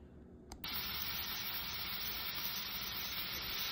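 Butter, sesame oil, garlic, onion and ginger sizzle in a hot pan, a steady close frying hiss that jumps up sharply after a brief click at the start and then holds loud and even.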